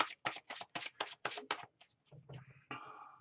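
A deck of tarot cards being shuffled by hand, a run of seven quick riffling bursts in steady rhythm, close and fairly quiet, followed by softer handling rustles.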